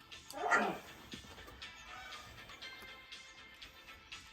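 A single faint, brief whimper from a Laika puppy rises early, then fades into a quiet room hum.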